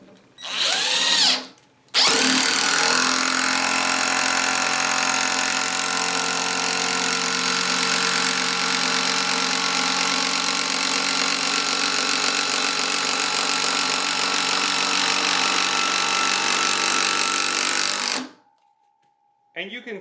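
A RIDGID brushed 18V impact driver on speed mode 3 drives a screw in one long, loud, rapid hammering burst lasting about sixteen seconds, with brief spoken words just before it starts.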